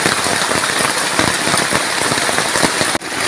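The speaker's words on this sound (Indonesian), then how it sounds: "kita terjebak hujan." Heavy rain pounds steadily on a camping tent, a dense, loud, continuous patter heard from inside, with a brief sharp dip just before the end.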